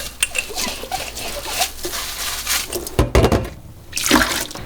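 Glass jars washed under running water in a kitchen sink, with splashing and gushing from the tap, clinks and knocks of glass, and bursts of water flow in uneven spurts close up.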